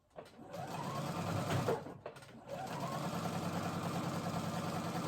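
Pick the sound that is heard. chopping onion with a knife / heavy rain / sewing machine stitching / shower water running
sewing machine stitching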